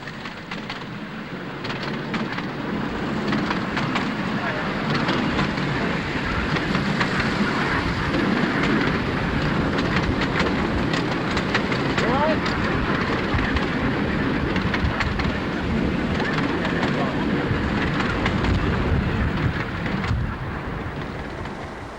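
A miniature railway train hauling Pullman carriages rumbles past in a steady, continuous roll, with wheels clattering and faint clicks over the track, fairly loud throughout and with no voices.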